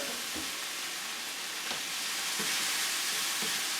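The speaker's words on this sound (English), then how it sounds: "Just mix all that up" Hot sauce with peppers being mixed into a sizzling meat sauce in a pan, a continuous close frying hiss broken by a few scraping stir strokes spaced about a second apart, with no voices.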